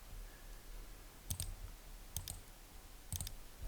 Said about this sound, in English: So I'm holding the Shift key down and clicking every single one I want contained within that group.